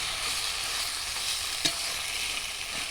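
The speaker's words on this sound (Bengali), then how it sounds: "নেড়ে শুকনো করে নেবে" Taro leaves with prawns stir-frying in a pan give a soft, even hiss with faint scraping, plus one brief clack of a utensil midway, heard alone without voices.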